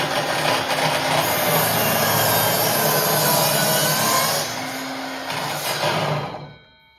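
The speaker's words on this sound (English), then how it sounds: "Okay, we're going to do a bevel cut. It's a single bevel." A Ryobi power saw, sounding rough, cuts a single 45-degree bevel through a wood piece, a loud steady whine and buzz that holds for about six seconds, dips slightly, then spins down to silence at the end.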